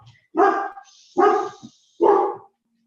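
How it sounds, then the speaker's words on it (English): A dog barks three times nearby, each bark loud and sharp with short pauses between. "I'm in the middle of a live class and I have them barking."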